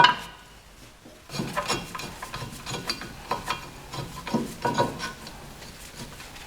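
A brake rotor on a Skoda Felicia is slid and aligned onto the wheel hub, giving faint, close metallic scrapes and knocks in a few irregular bursts.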